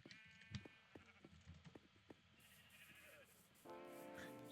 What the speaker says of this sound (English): Looks like we've got some sheep.